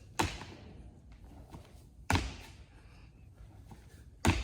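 Feet land on the floor from tuck jumps in a home workout, three distinct thuds spaced about two seconds apart, close and fairly loud against a quiet room.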